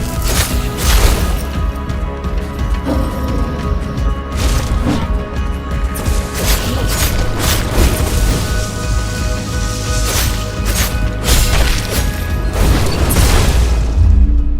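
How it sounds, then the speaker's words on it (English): Missile launcher explosions in the Dungeons of Hinterberg video game: a loud run of booming blasts and crashing impacts, several in quick succession, over a dense layered game soundscape with no speech. "The missile launcher."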